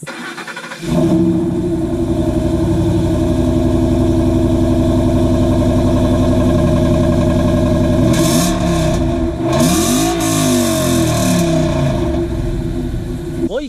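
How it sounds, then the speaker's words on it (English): A loud Ford V8 engine with JBA long-tube headers starts, idles with a deep rumble, then revs hard twice, the pitch climbing and falling each time. "I'm going to rev my car just so y'all can hear what my car sounds like with JBA long tube headers"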